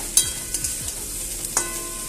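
Turmeric and half a spoon of ginger paste sautéed in fish oil with a spatula, a few close scraping strokes over a low, continuous sizzle.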